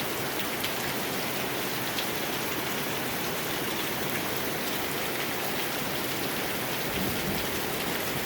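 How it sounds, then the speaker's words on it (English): Summer rain falls steadily onto a wooden deck under construction, a dense, even hiss of drops close by and unbroken throughout, with no talk. "Summer rain."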